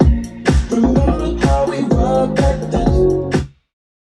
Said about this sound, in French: Genre de clap réverbéré.